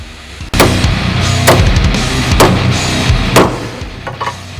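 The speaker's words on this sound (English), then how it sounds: "I might be able to smack it in now with a hammer now that it's started." Four loud, sharp hammer blows on a front lower ball joint of a Ford BA Falcon, roughly a second apart, over a steady background hum.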